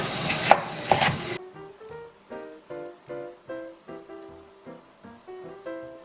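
A brief burst of running water comes first, then a knife cuts rinsed cucumbers on a board, about ten crisp, evenly spaced chops, close and clear with no voices.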